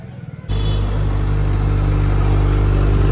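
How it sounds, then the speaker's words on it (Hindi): A stock-exhaust Suzuki Hayabusa Gen3 motorcycle idles close by, a steady deep engine rumble that starts abruptly and holds loud and even throughout, with no talk. "अभी मैं इसको आपकी इसकी स्टॉक एग्जॉस्ट साउंड सुनाऊंगा।"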